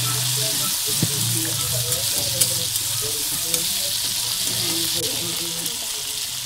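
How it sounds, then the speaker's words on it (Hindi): Onions frying in a pan until light brown for cauliflower keema; a steady, close, even sizzle with faint stirring holds unbroken from start to finish, with no voices. "तो ये देखिए हमारी प्याज यहाँ हल्का ब्राउन हो रही है।"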